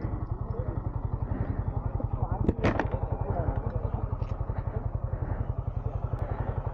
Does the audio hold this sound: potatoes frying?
no